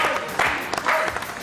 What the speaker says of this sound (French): Bah, Simone, on applaudit très très fort.